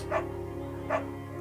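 A beagle barking in the game Firewatch: two sharp, close barks about three-quarters of a second apart over a steady low hum, no talk.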